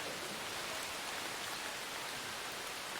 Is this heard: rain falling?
yes